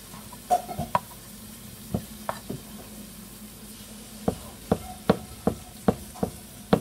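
Ground beef sizzling in a frying pan as a utensil scrapes and chops it into fine crumbles, with a string of sharp clacks and scrapes against the pan over a steady frying hiss, close up and without talk.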